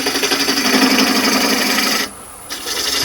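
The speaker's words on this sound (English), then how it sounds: "I'm just using a spindle gauge for this." A spindle gouge cuts wood on a lathe to shape a natural-edge piece, a steady close rasping scrape that drops out for a moment and then resumes.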